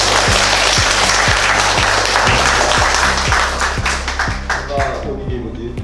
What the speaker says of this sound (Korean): 오시면은 박수로 한번 다시.